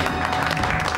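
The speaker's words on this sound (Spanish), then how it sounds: "Un aplauso." An audience in a live show claps for a magician, a brief, dense burst of applause at full strength that stays even from start to finish.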